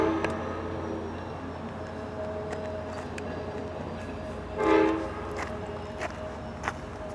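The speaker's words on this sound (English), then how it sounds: "Got a nice friendly horn salute there from the engineer" An Amtrak train passes near Salisbury, its horn sounding a brief salute over the steady rumble and tonal hum of the locomotives as the train slowly fades into the distance.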